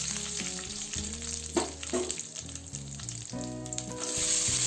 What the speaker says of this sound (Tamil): இப்போ இந்த வரமிளகாய், கருவேப்பிலை, பச்சை கடலை பருப்பு இது எல்லாத்தையும் ஆயிலில் ஒரு 30 செகண்ட்ஸ்க்கு ஃப்ரை பண்ணிடலாம்.